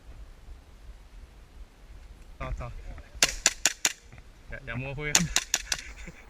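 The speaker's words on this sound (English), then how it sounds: "Our enemies is firing from the 2nd and the 3rd floor" Airsoft BB guns fire in sharp bursts, about four quick cracks in a row and then another three or four, during an indoor building assault. Voices talk and shout around the shots.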